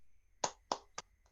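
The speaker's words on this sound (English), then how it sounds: "turn your mics on and give them a big round of applause" A few sharp, scattered hand claps come through a video call microphone, spaced out and thin against near silence.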